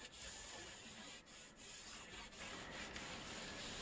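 A wet rag rubs and wipes across a bicycle tire and rim during tubeless setup, clearing soap and excess sealant. Soft, close, continuous scrubbing strokes with a few brief dips, no voices.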